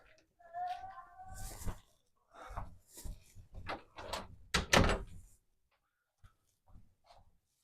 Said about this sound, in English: Excuse me, my cat's opening the door.